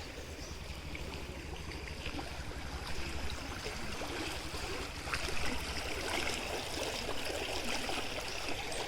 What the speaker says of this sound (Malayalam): വെള്ളത്തിൻ്റെ നല്ല കളക്കള ശബ്ദം കേൾക്കുന്നില്ലേ?